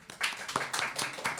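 A brief burst of scattered hand clapping from a small group, irregular and moderately loud, fading in and out over about a second.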